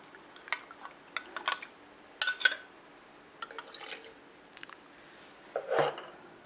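Glutinous rice paste for perilla leaf bugak is stirred in a large pot, giving soft, wet, intermittent sloshes and small knocks that sound close but quiet.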